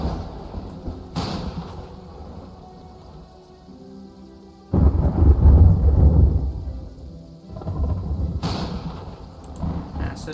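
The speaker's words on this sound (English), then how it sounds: "Okay, it just starts the rain." Rain and thunder weather in the Terraria Calamity Mod video game: a steady rain hiss with deep rumbling thunder swelling loudly midway and again near the end.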